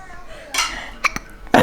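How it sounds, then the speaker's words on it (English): A girl hiccups a few times, short sharp vocal catches spaced apart and fairly close, with people talking around them in a home kitchen. "Yeah, you got the hiccups."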